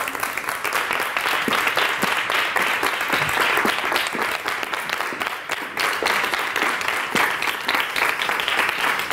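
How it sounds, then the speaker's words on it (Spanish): A studio audience at a televised interview program applauds, a dense, sustained wave of clapping that stays loud and even for several seconds. "Un aplauso para Mónica Sarasa."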